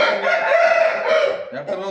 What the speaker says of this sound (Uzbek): Mana xo'roz holat.